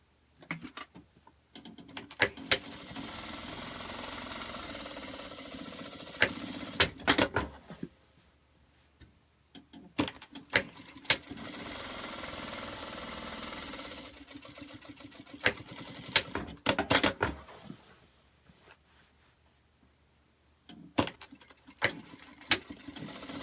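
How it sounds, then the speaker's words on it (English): A sewing machine stitches pockets into a fabric bag, running in several sustained whirring bursts with clicking and rattling pauses between them, close and loud, with no voices. "Then we're going to sew in the middle and then split those to make the 4 pockets"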